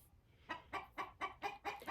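Flock of hens and a rooster kept under netting give a run of six sharp, evenly spaced alarm clucks, fairly close and loud, each a bright burst, with no talking over them.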